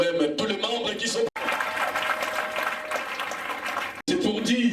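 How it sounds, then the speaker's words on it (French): Applause from an audience at the official launch of an association, with steady clapping across the clip and a brief cut in the middle. Sounds of the crowd and some speech-like voices mix in. "applaudissez pour vous-même tous les membres qui sont..."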